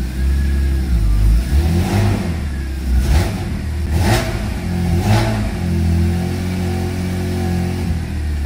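BMW M3 engine running cold, blipped in several sharp revs that rise and fall over a deep steady idle, loud and close, with no talking.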